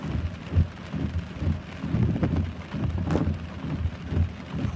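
Rain falls steadily during a thunderstorm while low rumbles of thunder rise and fall underneath, close and moderately loud, with no voices.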